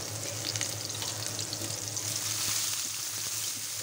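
Onions fry in a pan with a continuous dense sizzle and a light crackle throughout, close and steady, with faint stirring taps.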